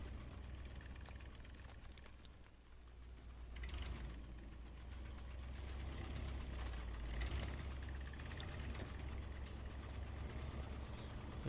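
A Hummer truck engine idles and strains on a steep hill in the Snowrunner video game, a low continuous rumble that swells slightly as the revs rise, steady throughout with no talk.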